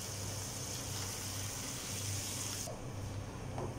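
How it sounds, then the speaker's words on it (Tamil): Water poured into a pan of egg curry with ground masala paste, a steady continuous splashing and trickling pour heard close up over a low background hum. "கூடவே குழம்புக்கு தேவையான தண்ணியும் சேர்த்துடலாம்."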